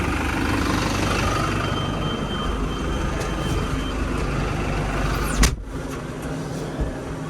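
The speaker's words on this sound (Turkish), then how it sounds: "Böyle traktör de batmış bir şekilde. Hemen sürümüze devam edelim." A tractor engine drones steadily and close while harrowing a field prepared for cotton near Diyarbakır. The tractor is sunk into the soil, and the low, continuous rumble is broken only by a brief knock.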